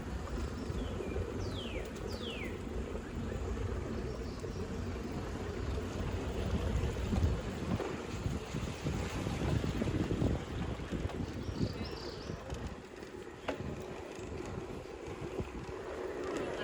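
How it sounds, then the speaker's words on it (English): A rippling creek with small cascades at the bottom of the Busch Greenway runs higher than usual, giving a steady, broad wash of flowing water with light wind noise and a few faint bird calls. "The rippling creek and little cascades."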